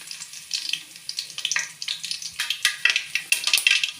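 Mustard seeds and garlic sizzling in hot oil in a home kitchen pan, a continuous crackling hiss with frequent sharp pops that grow denser, close and moderately loud with no talking.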